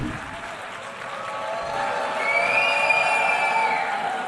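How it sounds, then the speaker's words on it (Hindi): Applause from a crowd filling an assembly hall, a dense steady clatter of clapping that swells slightly midway, with a few shrill whistles and cheers rising above it. "लोग तालियां भी बजा रहे थे"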